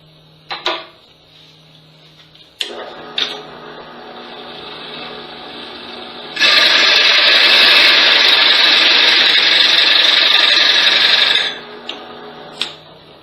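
A power saw in a pen-segmenting jig cuts a mark into a pen blank, with a loud steady whine of about five seconds between clicks and handling knocks before and after.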